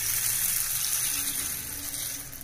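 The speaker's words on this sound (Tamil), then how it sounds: "இப்போ தண்ணி ஊற்றி நம்ம வச்சிடலாம்" Water gushes steadily into a vessel of soaking black-eyed peas, a close, continuous pour with a hissing, splashing texture.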